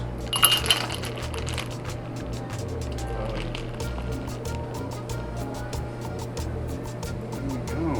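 Ice cubes clinking and tumbling into a moonshine cocktail glass at a Pigeon Forge bar, a short bright rattle near the start, then faint glassy ticks over a steady low room hum.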